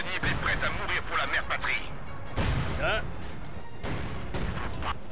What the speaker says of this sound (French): Ici, ils ont bombardé Ego, position d'artillerie ennemie